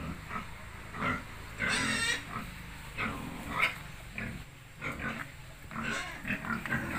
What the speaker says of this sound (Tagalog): Ito naman yung alaga niya mga baboy.